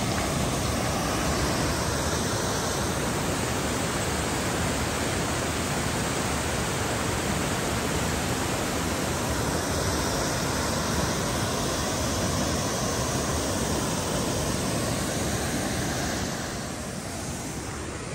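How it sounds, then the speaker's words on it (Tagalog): Lintungan Waterfalls in Nueva Vizcaya roars with a loud, constant broadband rush of falling water, unbroken and close for the whole stretch with no voices over it. "tapitan natin yung waterfalls at pakinggan natin yung sounds na napaka-relaxing at chilling at soothing sounds"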